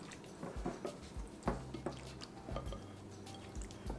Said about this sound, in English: Gonna have to get in there with your hands and massage that marinade into the meat.